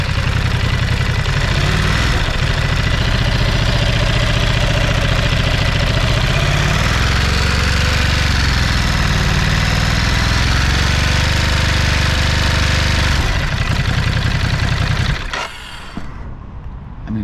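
A 2022 Ducati Monster motorcycle engine with about 1,100 km on it idles loudly and close by. The clattering, knocking idle runs steady for about fifteen seconds and then stops abruptly.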